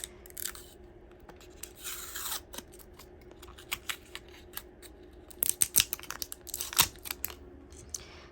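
Shrink-wrapped package of washi tape samples being opened by hand, with quick scissor snips and crinkly tearing of plastic film in bursts, close and fairly quiet, a cluster of sharper cuts near the end.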